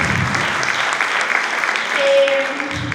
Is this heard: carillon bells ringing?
no